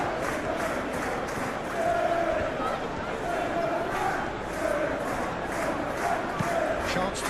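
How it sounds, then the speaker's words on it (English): A large stadium crowd in PES 2021 chants and roars in rhythmic waves, a steady loud wall of voices filling the arena throughout, with no commentary heard over it. "Now the crowd are demanding that they just finish this off."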